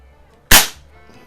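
A Beeman AR2078 CO2 target rifle fires a pellet in a single sharp, close crack that decays quickly into quiet.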